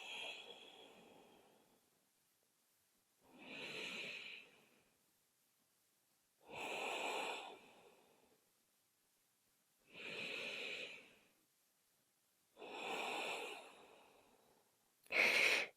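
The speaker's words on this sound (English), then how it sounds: "We'll take 3 more nice deep breaths." Slow, deep yoga breaths during a beginner session, heard as five long airy inhale-exhale cycles spaced evenly with quiet pauses between, close and soft, ending on a sharper, shorter breath.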